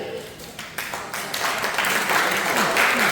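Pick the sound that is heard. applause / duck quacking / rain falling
applause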